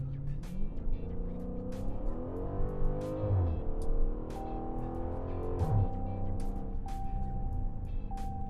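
A Dodge Challenger Scat Pack accelerates hard from inside the cabin, its engine revving up through the gears with audible paddle-shift changes, a loud continuous roar that rises and drops at each shift.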